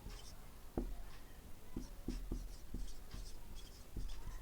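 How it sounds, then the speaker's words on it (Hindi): Chalk or marker tapping and scratching on a board during a Class 9 maths lesson on polynomials, with irregular short strokes and taps over a steady background hiss, fairly faint and without speech. "यहाँ मैं लिख देता हूँ"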